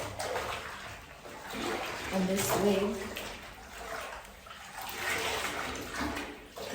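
Water runs steadily from a tap into a basin while a curly wig is rinsed, a continuous rushing flow that swells and eases, with someone speaking briefly over it.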